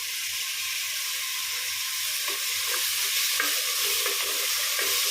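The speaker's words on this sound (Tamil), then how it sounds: "வெங்காயம் ஓரளவு நல்லா வதங்கின பிறகு 2 பழுத்த தக்காளி கட் பண்ணி வச்சுருக்கேங்க," Onions and tomatoes for a kara kulambu sauté in a hot pan, giving a loud, steady sizzle and hiss with light stirring scrapes throughout and no talk.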